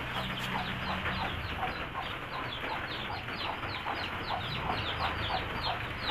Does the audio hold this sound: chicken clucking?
yes